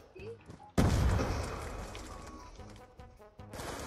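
A loud burst of gunfire erupts in the Black Ops 2 video game, a sharp blast that slowly fades, followed by a few quieter clicks and shots near the end.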